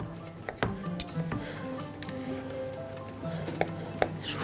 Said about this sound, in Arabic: البصل بيكرمل